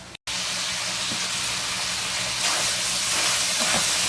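Kielbasa sizzles steadily in a pot for Southern fried cabbage, a continuous bright hiss with a few soft scraping stirs, broken by a brief dropout near the start, no talking.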